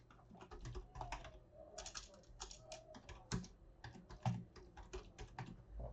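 Steady computer keyboard typing, a fast run of clustered key clicks with short pauses and a couple of heavier strokes, close and fairly quiet, no voices.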